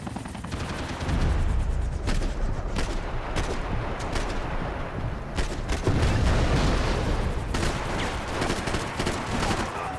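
Rapid bursts of gunfire in the video game Max Payne 3, fired at an incoming rocket: dense, loud repeated shots and booms running throughout, close and chaotic.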